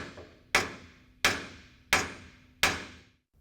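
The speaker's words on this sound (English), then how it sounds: "I'll have Mel tap that front bracket till everything is plumb and true" Four sharp metallic hammer taps seating the front bracket of a rear axle on a 1934 International pickup, evenly spaced about a second apart, each ringing briefly, close and clear with no talk.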